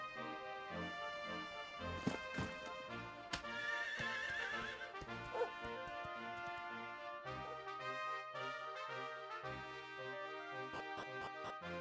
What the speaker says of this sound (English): Horses are incredibly inconvenient way to cover large amounts of ground in very little time